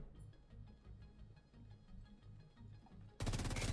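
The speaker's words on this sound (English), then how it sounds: "Let's switch to the FAMAS. FAMAS rate of fire." A FAMAS rifle in The Division 2 video game fires a rapid series of evenly spaced shots, fairly quiet at first, then a loud dense burst takes over in the final half second.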